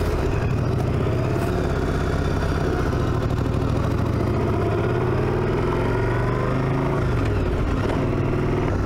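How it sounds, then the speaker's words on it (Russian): A 2005 Yamaha Dragstar XVS 1100A Classic motorcycle engine runs steadily with a low, smooth exhaust rumble, fairly quiet and continuous, no talking. "Совсем не громко работает выхлоп"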